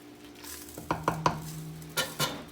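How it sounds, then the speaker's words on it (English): A spoon stirs Russian cabbage soup with leeks and dill in a pot after sugar is added, giving a few close, distinct knocks and scrapes, then two more softer strokes in a quiet kitchen. "Give it a stir."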